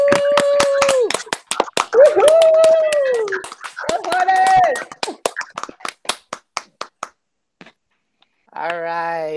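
Board members at a school board meeting clap over a video call, sharp separate claps in a loose uneven rhythm, mixed with cheering and a woo-like vocal whoop, trailing off to sparse claps and silence before a voice returns.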